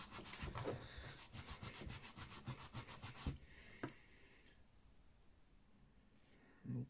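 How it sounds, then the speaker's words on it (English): A sanding pad buffs the body of a 1979 Ford Cortina diecast model in fast rhythmic back-and-forth strokes, about twenty quick scratchy rubs close up, then a couple of slower strokes trailing into near quiet, with a final short rub. "get the trusty sanding pad."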